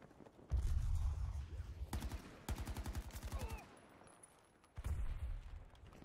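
Bursts of AK rifle fire in Battlefield 2042: a short rapid string near the two-second mark, then a longer rattling automatic burst, loud and close, with low rumbling game ambience and background noise around it.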